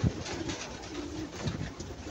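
A live decoy pigeon or dove calling during a bird hunt, giving low, soft cooing notes close by, a few brief coos spread across a quiet outdoor background.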